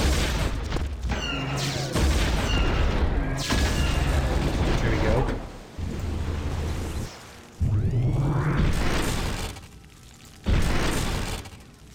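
Bombing explosions during a Star Wars Galactic Battlegrounds battle: a dense run of loud, rumbling blasts and mechanical clatter. It breaks off briefly at a few points and swells again, with occasional voice-like sounds mixed in.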